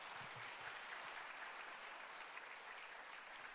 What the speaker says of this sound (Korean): 용기 내셔서 잘 하시라고 우리 박수 한번 부탁드리겠습니다